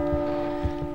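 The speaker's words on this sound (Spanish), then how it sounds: "Las campanadas." Church bells chime in a video game, a steady ringing tone with a couple of louder strikes over a low rumble, moderately loud with no voices.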